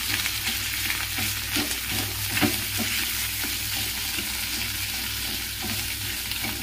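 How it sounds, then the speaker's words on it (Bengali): Boiled potato being mashed with peas in a pan, a steady sizzling hiss with repeated soft pressing and scraping thuds, one a little louder near the middle. "এবার একটু ম্যাশ করে নেবো আলুটা।"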